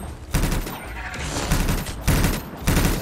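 Turrets fire in the video game Anthem, bursts of rapid automatic gunfire with heavy low booms, loud and close, coming in several repeated volleys over a few seconds.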